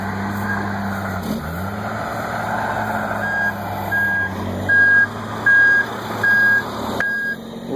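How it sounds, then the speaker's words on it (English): Trucks back up at a dirt work site beside a walking path, with a steady heavy engine rumble and a reversing alarm beeping in a regular rhythm of about five evenly spaced tones. "We got the trucks backing up on it."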